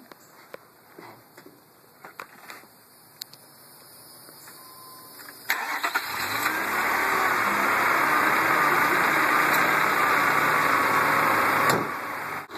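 Mazda MX6 V6 engine idling during a Seafoam decarbonizing treatment through a vacuum line, faint at first with small clicks, then a loud steady broadband roar from about six seconds that holds and cuts off near the end.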